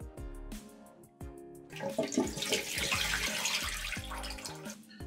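Boiled tarhana for feeder fishing bait is rinsed under running water, a gushing splash that swells midway and holds steady, with faint tonal background music underneath.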